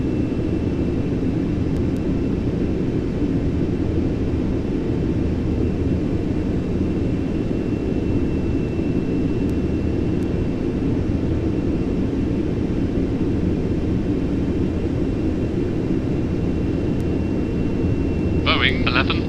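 Steady, loud broadband roar inside the cabin of a Boeing 777X jet airliner cruising at about 33,000 feet, unbroken throughout, with a faint chime-like blip near the end.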